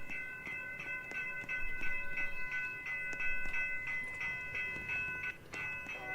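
An Amtrak train rolls past in Roblox, its horn holding steady tones over a regular clickety-clack of wheels on rail joints, fairly loud and close, with no voices.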